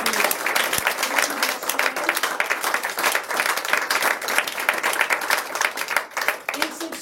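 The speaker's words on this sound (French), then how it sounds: "également des applaudissements pour Madeleine à la régie qui nous accompagne" A theatre audience applauds at the close of a stage play, a loud, sustained round of dense clapping from many hands that keeps an even level throughout, only dipping slightly near the end.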